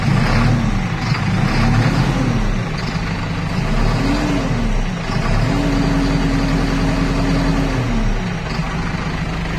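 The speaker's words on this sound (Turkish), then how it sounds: "Traktörü sesini dinleyin biraz." Loud and close, a Massey Ferguson 6714S Dyna6 tractor diesel idles with a deep steady rumble, its pitch rising and falling through several short revs before holding higher and then dropping back.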